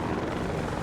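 Helicopter in Battlefield 2042 flying close overhead, a loud steady rotor and engine roar filling the whole moment without a break.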